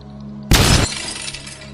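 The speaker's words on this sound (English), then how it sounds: "I wasn't even trying to break the glass." Glass shatters in the video game Stray: a sudden loud crash lasts about a third of a second and then trails off into a faint tinkling residue over a low steady hum.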